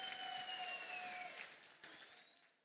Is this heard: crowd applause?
yes